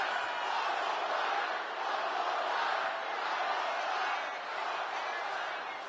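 Dense wrestling crowd roar from the WWE 2K25 video game in NXT universe mode, a loud sustained wall of cheering that swells and dips slightly over several seconds.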